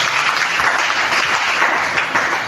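Loud, dense applause from a church congregation fills the whole moment, many hands clapping together in a steady, close roar with no pause.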